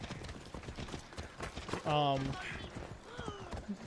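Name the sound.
horse hooves in video game Assassin's Creed Odyssey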